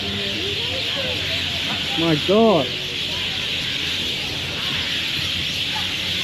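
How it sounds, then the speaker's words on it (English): A dense, constant chorus of chatter and hissing calls from thousands of birds in the trees overhead in Melaka, Malaysia, with a person briefly speaking over it. "there are thousands of birds in the trees above us."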